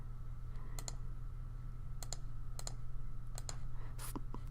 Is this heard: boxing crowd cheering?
no